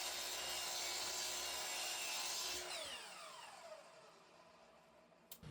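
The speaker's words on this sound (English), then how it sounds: "I need to square one end of each piece, and I'll do that at the miter saw" A miter saw cutting scrap wood pieces to length, a loud whining cut for under three seconds followed by the blade spinning down and fading, then a short knock at the end.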